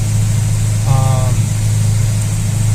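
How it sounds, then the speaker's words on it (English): A 1972 Mercedes-Benz 280SEL 4.5 W108 engine, cold, running at a steady high idle with a loud, constant low drone and a short whine near the start. "turn ignition on, and it should start right up"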